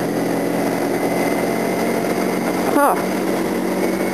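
A motorcycle riding along a sandy dirt road, its engine a steady drone with wind noise throughout and a brief spoken interjection near the end.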